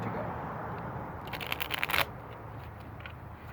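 A short burst of rapid riffling as tarot cards are shuffled rises briefly over quiet room noise and then stops.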